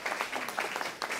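Steady applause from a crowd at a university admissions ceremony for an economic engineering graduate receiving an award, a dense, continuous patter of clapping throughout the short moment.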